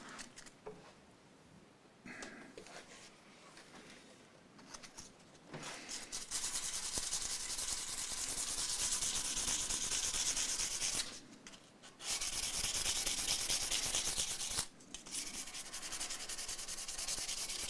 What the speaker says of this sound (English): with the 240 grit, and I'm just going to make sure that I clean off any burrs all the way down to here